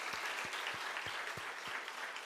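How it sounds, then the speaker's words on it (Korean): A church congregation at a Sunday evening service applauds softly from a distance, a faint, even patter of hands with a few heavier claps standing out. "우리 박수 한번 하겠습니다."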